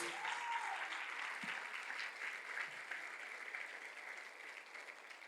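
A church congregation applauds loudly in worship, a dense, continuous roar of many clapping hands that holds steady from start to finish, a little distant and reverberant.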